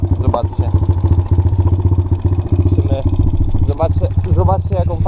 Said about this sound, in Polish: no i kład naprawdę fajnie chodzi teraz, naprawdę to jest czysta przyjemność jeżdżenie tym kładem